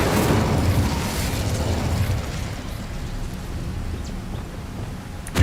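An Incendio fire spell blasts in the video game Hogwarts Legacy, a dense roaring burst that rumbles and crackles, slowly thinning out before a small sharp pop at the end.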